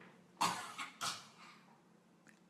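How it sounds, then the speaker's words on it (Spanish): Two or three short, close coughs in quick succession, fairly quiet, followed by near silence in an indoor setting. "Hace toser."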